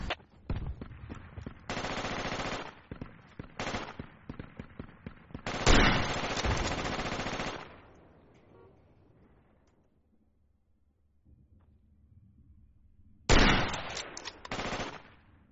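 Automatic gunfire in the military shooter game Project Reality, loud sustained bursts of rapid shots separated by short gaps, a long quieter stretch of low rumble, then a final sharp burst.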